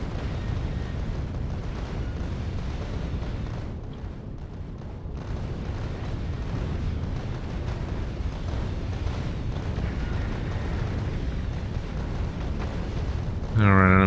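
Missiles firing and exploding in Factorio: Space Age, heard as a dense, continuous roar of overlapping booms and rumbling blasts that holds steady throughout, with a sharper burst at the very end.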